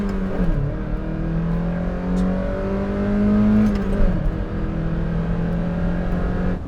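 A 1999 Mazda MX-5 Miata NB with a five-speed manual revs and accelerates, a steady close engine drone with rising harmonics and a brief dip where it bogs down, continuous throughout with no talk.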